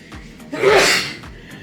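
A single loud, close sneeze, with a sharp inhale and then a burst of noise in the middle of an otherwise quiet stretch in a car during food-delivery driving.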